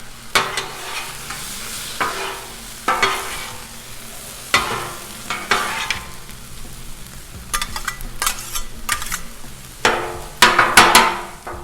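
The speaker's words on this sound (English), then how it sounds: "Super fast to cook ground beef on this thing." Ground beef frying on a Blackstone griddle, a steady close sizzle punctuated by repeated scraping and chopping strikes of a metal spatula against the flat top.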